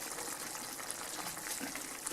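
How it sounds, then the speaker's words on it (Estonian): Carrots boil in water in a pot, giving a steady, soft bubbling hiss that stays even and close throughout with no talking. "Ja nüüd ta keeb ilusti selle võib isegi tule vaiksemaks keerata, rahulikult möllab."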